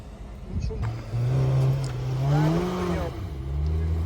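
A Lada Niva engine strains and revs as it drives off-road over rough ground, rising and falling in pitch, with people talking over it.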